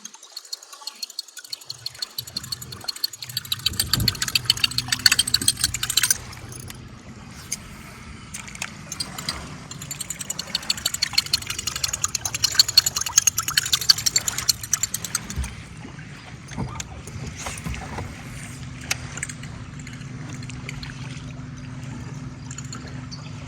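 Buzzbait fishing lure, a TWT model, churning across the water surface with a steady splashing, gurgling trickle that runs continuously up close, bursts of squeaky blade noise early on.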